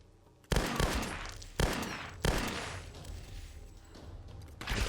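Rifle gunfire in the video game Tomb Raider: three loud shots with a ringing tail after each, spaced unevenly, then a softer fourth report near the end.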